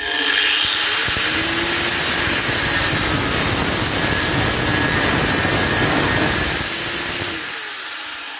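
A Parkside PWS 125 G6 angle grinder runs at its maximum 12,000 rpm with no load, giving a loud, steady, close high-speed whine with a dense roar. It holds for about seven seconds, then begins to spin down near the end.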